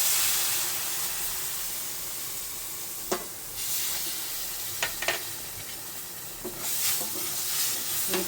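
Roasted semolina in a pan over low heat sizzling faintly as milk goes in, with a soft steady hiss and a few sharp scrapes and clinks of a spoon stirring.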